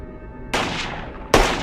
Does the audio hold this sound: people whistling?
no